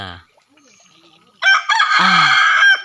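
After a brief cluck and a quiet pause, a rooster crows once, loud and close, its long strained call ending abruptly.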